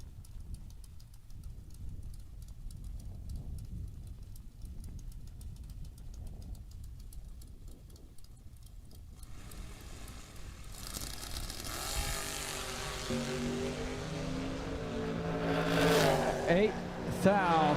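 Estes Oil Company Camaro drag race car at a drag strip, a distant idling engine rumble that swells into a loud, rising high-revving roar near the end, with an announcer talking over it.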